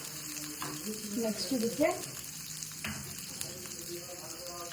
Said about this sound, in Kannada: ಸೊ ಲೈಟಾಗಿ ಈ ಥರ ಫ್ರೈ ಮಾಡ್ಕೋಬೇಕಷ್ಟೆ